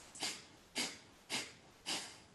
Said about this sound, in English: So if breath of fire is new to you, we are doing a inhale, exhale through the nose.